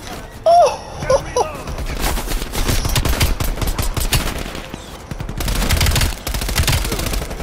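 Heavy automatic gunfire from the Call of Duty Cold War video game on PS5, dense rapid bursts rattling nearly nonstop, loud and close, with brief game sound effects at the start.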